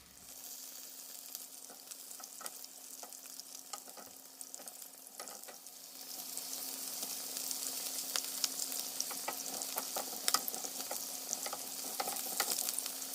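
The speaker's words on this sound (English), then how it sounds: "frying them in a pan" Steady crackling sizzle of taquitos frying in hot oil in a pan, growing louder and busier partway through, with a low constant hum underneath.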